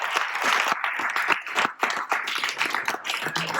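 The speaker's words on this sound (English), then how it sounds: "Give a round of applause." An audience at a church forum gives a round of dense, steady clapping that stays strong for a few seconds, heard from within the room.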